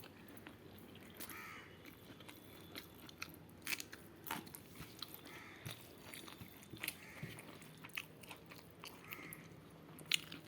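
Someone eating a meal of pointed gourd and okra, with close, quiet, irregular soft chewing and crunching bites, a few sharper clicks scattered throughout and no talk.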